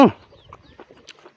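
A chicken clucking nearby, a sharp loud squawk at the start followed by soft scattered clucks and faint rustling.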